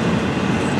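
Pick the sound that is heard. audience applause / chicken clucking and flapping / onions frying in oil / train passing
train passing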